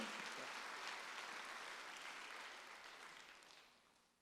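Congregation applauding during a Korean church Sunday service: dense sustained clapping from many hands, gradually fading out over a few seconds.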